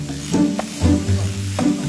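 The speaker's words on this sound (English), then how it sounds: "I'm quickly frying the marinated pork with vegetable oil to seal in the flavors" Marinated pork quickly fried in vegetable oil in a Cantonese kitchen, a steady close sizzle under a few clattering stirs of the pan, with no talking.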